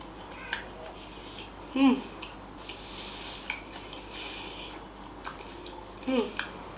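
Close chewing and eating of a Nigerian home-cooked meal, soft wet mouth sounds with a couple of louder bites and squishy chews, over a quiet background.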